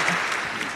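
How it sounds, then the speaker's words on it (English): Studio audience applause during a talk-show segment, a brief dense burst of clapping at a steady level that fills the short clip. "I want to give a house applause to your teacher."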